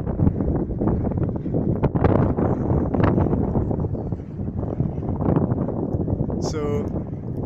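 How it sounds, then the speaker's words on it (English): Strong, gusty turbulent wind buffets the microphone continuously during a tethered lift kite test, a steady roar of rumbling noise with a brief high whistle near the end, and people talk over it. "it's a hugely turbulent wind field"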